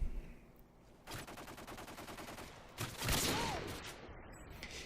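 Gunfire from the Intervention sniper rifle on the Scrapyard map in Modern Warfare 2, played in Domination mode: a rapid rattling burst of shots, then a sharp loud report with a ringing tail, amid faint game ambience.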